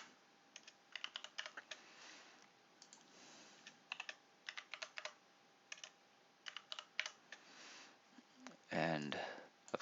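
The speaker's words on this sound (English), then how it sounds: "add a user without a Microsoft account, and then put in Mary, and then her password" Someone types a password on a computer keyboard while setting up a Windows 10 user account. Quiet, close clicking comes in short irregular bursts with pauses, ending in a louder brief rustle.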